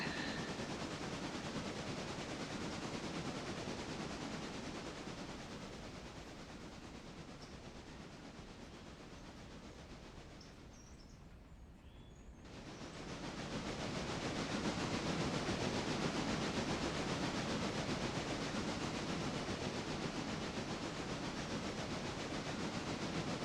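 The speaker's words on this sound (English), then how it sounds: "Now let's see who's gonna get done first, the passenger train or this train." A train rolls along railroad tracks in a steady, loud rumble and hiss that dips and thins briefly midway, then swells back to a full, continuous roar.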